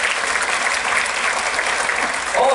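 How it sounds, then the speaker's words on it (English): Audience applause fills the room in a dense, steady wash of clapping at a magic show, continuing without pause to the end. "Nice round of applause for Hayley for helping us out."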